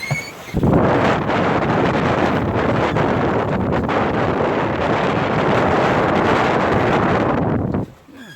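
Strong, steady wind roars across the microphone aboard a sailboat on the open Atlantic, a dense broadband rush at about 17 knots that holds loud and constant for several seconds before dropping away near the end.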